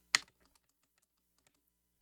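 A single sharp keystroke on a computer keyboard rings out up close, followed by a few much fainter taps trailing off into quiet.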